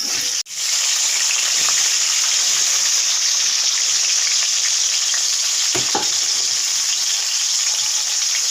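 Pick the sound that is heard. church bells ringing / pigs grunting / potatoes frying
potatoes frying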